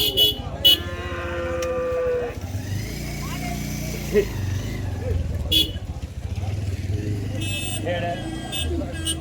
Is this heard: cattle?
yes